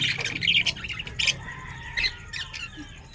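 Pet lovebirds squawk in a cage, with repeated close, shrill squawks and chirps in irregular bursts over a noisy background.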